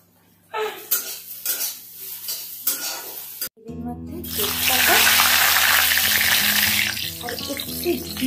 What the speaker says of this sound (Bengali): ফোড়ন ভাজা হয়ে গেছে